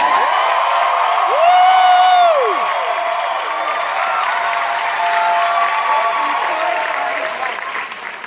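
An audience at a record release reunion concert breaks into loud applause and cheering, with whoops and a sustained crowd roar alongside an amplified voice on the PA.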